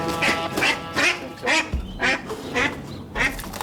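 A mother duck and her ducklings quack in a string of loud, close calls at a steady rhythm, each quack short and nasal, with scuffling in between during a capture at a vet rescue.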